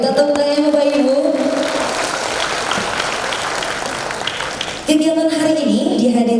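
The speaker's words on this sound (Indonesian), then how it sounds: "Boleh minta tepuk tangan Bapak Ibu?" Audience applause at the launch of the QRUPI program in Malang, a broad steady clatter of many hands lasting about five seconds, with an announcer's voice heard before and after it.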